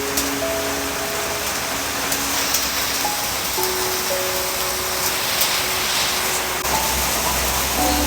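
Dense, steady rain pouring down, a loud broadband wash that continues unbroken, with faint tonal sounds briefly heard underneath.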